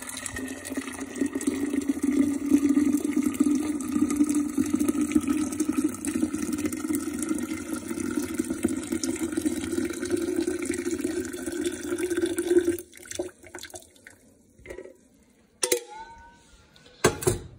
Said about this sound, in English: The hot tea into the sugar.